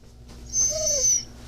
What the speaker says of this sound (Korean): 새 이불을 깔아주자 낑낑거리면서도 기어이 제자리를 찾아가는 제니.